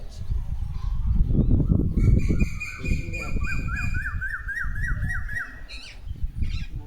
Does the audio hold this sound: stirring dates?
no